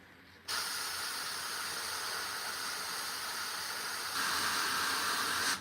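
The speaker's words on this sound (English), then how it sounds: "how long have I been spraying with that little paint?" An airbrush sprays paint onto a Warhammer miniature with a steady, close airy hiss that starts abruptly and grows slightly louder near the end before cutting off.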